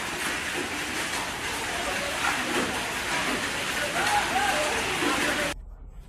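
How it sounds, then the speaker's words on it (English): Torrential rain during a violent storm in northern France, a dense, steady roaring hiss of downpour that cuts off abruptly near the end. "a sudden and violent storm swept across northern France, unleashed in torrential rain, fires, winds, and dramatic lightning"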